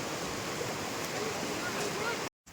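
A river flowing below a hillside near a rural temple, heard as a loud, steady rush of water that continues without a break and cuts off briefly at the very end.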